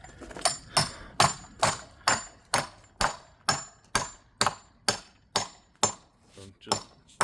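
Steady hammer blows on a back porch build at an 1892 townhouse, about a dozen sharp metallic strikes at an even rhythm, close and loud, with a brief softer tap near the end.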